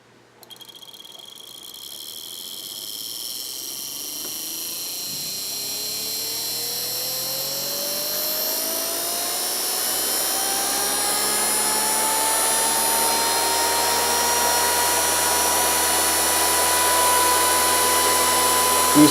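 A Bedini SSG pulse motor with a one-transistor circuit runs on 24 volts as a permanent magnet DC motor, spinning up from a standstill into a steady, rising high-pitched whine with sharp tonal harmonics that hold loud and continuous.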